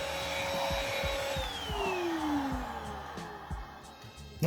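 Dibea D18 cordless vacuum cleaner with the small brush working on a sofa, a close steady whine whose pitch drops as the motor slows and then spins down, ending with a brief clatter.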